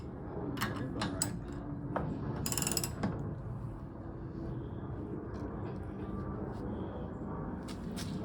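Wrench working a bolt loose on the front strut of a Nissan Z31, with short ratcheting clicks and metallic mechanism noise over a steady background hum in a garage.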